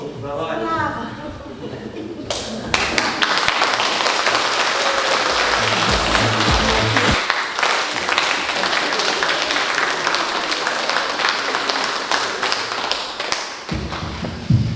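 A theatre audience claps loudly and continuously after a stage play, the dense patter running for many seconds with occasional thumps, after brief speech at the very start.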